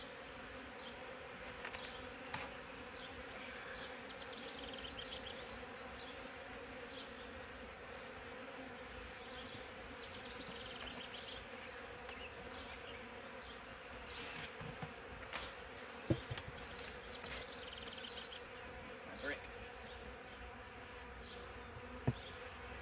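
Honey bees buzz steadily around an open hive while honey supers and an excluder are being added, a dense continuous hum with a few faint clicks and knocks.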